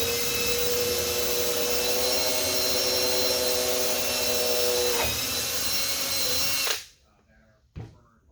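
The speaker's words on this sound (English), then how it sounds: "you want to start off with these small drill bits to locate the center" A power drill with a small bit whines steadily while drilling center holes in an acrylic panel for a Cessna 140, a loud continuous tone that stops abruptly near the end, followed by a brief knock.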